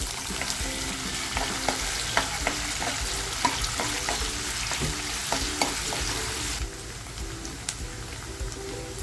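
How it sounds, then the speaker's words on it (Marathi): Onion frying in hot oil in a pan for a curry, a steady sizzle with scattered pops and occasional stirring clicks, fairly close, the hiss dropping noticeably near the end. "तेल टाकते कांदा टाकते"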